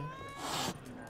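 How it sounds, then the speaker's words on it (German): A cat in The Witcher 3 video game lets out a single strained, yowling meow, loud and close over a faint game backdrop. "was stimmt denn mit der Katze nicht?"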